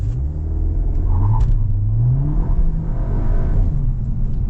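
A 2025 Skoda Octavia RS pulls hard up a steady tarmac hill with traction control switched off, its engine a loud, close, continuous droning rumble that climbs and falls in pitch as it revs.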